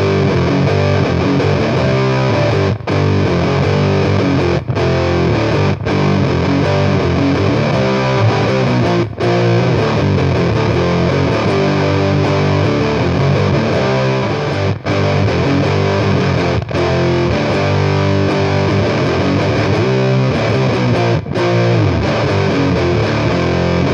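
Electric guitar played through an Electro-Harmonix Nano Big Muff fuzz pedal, a thick, sustained distorted tone with chords ringing continuously and brief breaks between strums, loud and alone.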